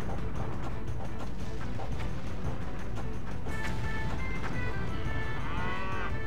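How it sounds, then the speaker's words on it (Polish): A cow moos inside the Polanie II strategy game, set among busy game-world background noise and scattered mechanical clicks and effects. "Zostawcie moją krowę."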